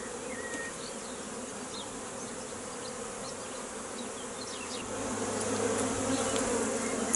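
Honeybees buzz at an open hive during a spring inspection, a dense steady drone close by with individual bees droning past, growing slightly louder toward the end, no talk.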